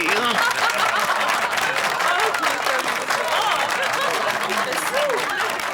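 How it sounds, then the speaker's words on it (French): Cartoon studio audience applauding the arrival of a guest star, with dense steady clapping and a few chuckles running throughout, mixed with lively voices and musical tones over the top. "On peut l'applaudir"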